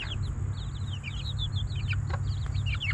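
Chickens and small chicks call out in agitated, rapid chirps and clucks, stirred up by a stalking cat on a farm, steady low background hum beneath the repeated high peeps.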